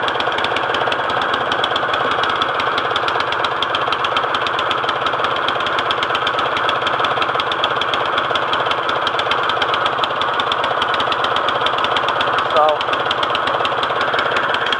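An MTD 179cc small engine runs with the choke on, a loud, steady mechanical chugging with a knocking rhythm that continues unbroken throughout.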